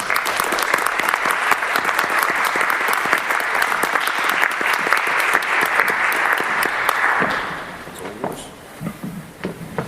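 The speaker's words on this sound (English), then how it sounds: "have a nice round of applause" An audience at a school board meeting applauds loudly and steadily for several seconds, then the clapping thins out and fades into a few scattered claps.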